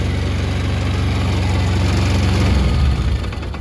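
A Polaris 6x6 engine, just repaired, runs with a steady, loud, close idle that rises slightly near the end and then eases off, with no talking over it.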